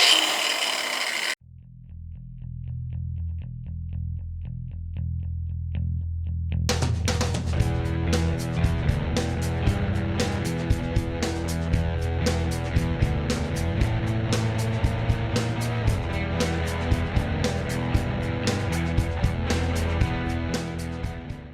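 Angle grinder fitted with a Gator 4.5-inch, 1/16-inch cutoff blade cutting a steel bracket for a Sportster headlight, a steady loud motor whine with the harsh rasp of the blade biting metal, running continuously alone.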